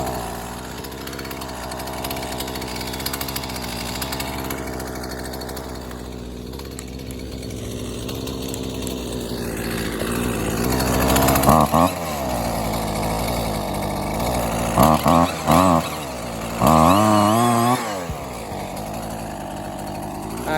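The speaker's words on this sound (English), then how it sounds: "So I will hold the throttle and then pull the rope. It's probably going to start within 3 pulls" A Husqvarna 128LD string trimmer is pull-started with several sharp rope-pull bursts, then its small two-stroke engine catches and keeps running in a steady, buzzing idle that stays loud and close throughout.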